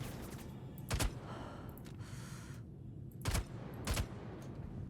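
Gunshots killing a trespasser in the Star Citizen space game: three sharp reports, one alone and then two close together, over a quiet low background hum.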